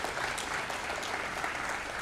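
A convocation audience at Xavier University Bhubaneswar gives a long-service honour a dense, continuous round of applause that stays loud and steady from start to finish, with no voices over it.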